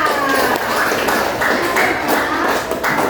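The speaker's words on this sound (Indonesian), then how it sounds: "tepuk tangan buat Vika." A school class applauds for a student, with dense, steady clapping from many hands filling the room, close and loud throughout.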